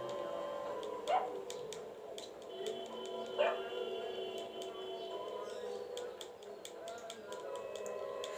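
A dog character in the video game GTA V gives two brief whimpers over a steady game soundscape of ambient tones and light ticking clicks, with no talk.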